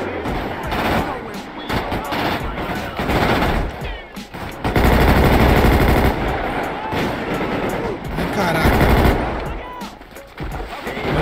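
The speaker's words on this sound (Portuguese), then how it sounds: "Tomando tiro de 12 aqui" Rapid gunfire and shotgun blasts in a GTA V gang war, dense and loud, with repeated volleys over nearly eleven seconds and brief lulls between heavy bursts.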